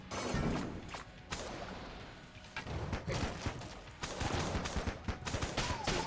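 Rapid bursts of gunfire from a slow-firing weapon in Enter the Gungeon, with repeated shots and impacts in quick clusters, fairly close and alone with no voice over them.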